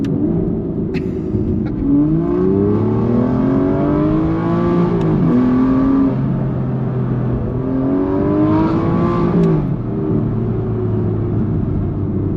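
Aston Martin V12 Vantage S engine driving, with a loud sustained roar that rises through the revs in repeated sweeps and drops sharply at each gear change, heard close and with no talking.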